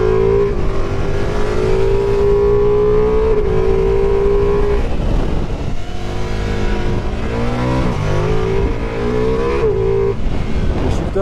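A shifter kart engine runs close and loud without a break, its pitch rising and dropping as it revs through the gears.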